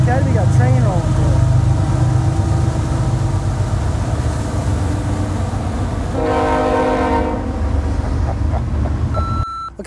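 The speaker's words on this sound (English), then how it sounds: "got a train rolling through" A train rolls past close to a golf academy, a steady heavy rumble filling the clip, with a sustained horn blast sounding partway through over occasional talk.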